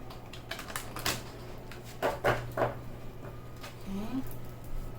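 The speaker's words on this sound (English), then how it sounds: "let me just give this a good shuffle" Tarot cards are shuffled in quick, soft riffling bursts and taps, close and fairly quiet, with a brief murmur of a voice near the end.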